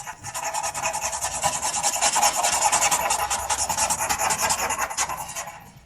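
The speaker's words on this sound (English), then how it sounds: "Minimize scraping with the pen." Graphite pencil rubbing and scraping across paper during blending of a Hercules sketch, a steady close raspy friction with quick repeated strokes running continuously throughout.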